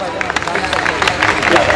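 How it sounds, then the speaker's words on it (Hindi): Crowd clapping and cheering at a sangeet ceremony, a dense, steady patter of hands with scattered whoops and murmuring voices throughout. "जोरदार तालियां प्लीज"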